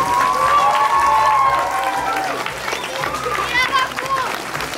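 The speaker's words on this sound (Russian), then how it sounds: "Еще раз аплодисменты." A theatre audience claps for a children's dance troupe, the applause running steadily beneath a clear speaking voice that dominates the first seconds and returns near the end.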